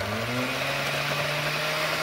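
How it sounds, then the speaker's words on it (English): An old blender churns corn, milk and butter with a steady motor whine, its pitch dipping slightly as the thick mixture loads it, close and continuous with no talk. "It's an old blender."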